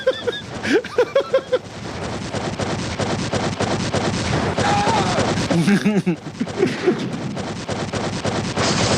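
Rapid shooting in a Superman video game: dense, repeated blasts and gunfire-like pops in a continuous barrage, loud and close, with brief electronic tones over the clamour.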